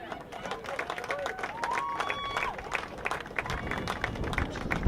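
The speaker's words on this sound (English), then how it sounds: "Please give a nice warm round of applause for Joey Polly." Applause from a crowd at a boys' lacrosse event fills the room, steady clapping with scattered voices and chatter mixed in throughout.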